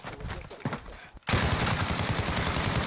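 Rapid gunfire erupts in a Warzone video game match, starting with scattered shots and then becoming a sustained, loud burst of automatic fire with no voices.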